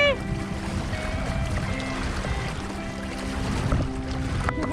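A motorboat being driven near Captiva and Sanibel Islands, its engine droning steadily beneath wind and water splash, with tonal whine shifting as it runs; voices can be heard over it.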